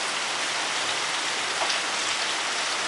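Steady rain falling on a Saturday evening, a dense, even hiss of drops on surfaces, close and continuous with no voices or other sounds.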